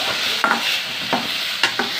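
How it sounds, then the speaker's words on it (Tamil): Spices being tempered sizzle and crackle in hot oil in a home kitchen, with a few sharp stirring scrapes and spits punctuating a steady frying hiss, close up. "தாளிக்கிறது தான் நெடி ஏறுது."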